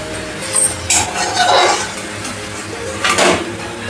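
Fried Maggi pakoras are lifted out of a pan, with metal utensils clinking and scraping against cookware in a few close, bright knocks over a soft background hiss.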